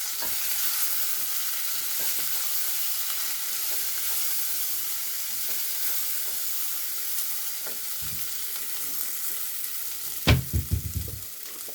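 Boiled pinto and black beans being stirred in a hot pan, with a steady sizzle throughout and a few louder scraping stirs near the end.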